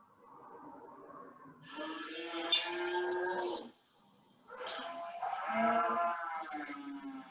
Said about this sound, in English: any second now it'll see me and start playing cattle mooing